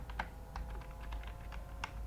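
Soft, irregular keystrokes tap on a computer keyboard as a command is entered, quiet and close over a steady low background hum.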